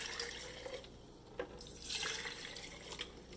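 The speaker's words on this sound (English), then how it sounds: "we get our water, and I pour maybe a cup in." About a cup of water poured into jars each holding a teaspoon of seeds for sprouting, heard as a close, steady splashing trickle that swells in short bursts, with no talking over it.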